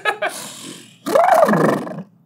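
A person's voice imitates an elephant with a loud, rough roaring bellow that rises and falls, held for about a second, after a couple of short breathy grunts.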